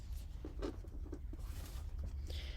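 Pen and ink shading on paper while making a folded-paper finch card: faint, soft scratchy strokes in short irregular bursts, close and quiet.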